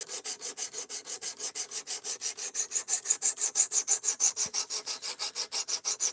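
A knife is sharpened on sharpening stones in a brisk, regular back-and-forth rhythm, roughly five strokes a second, each a close, bright scraping hiss, with no voices.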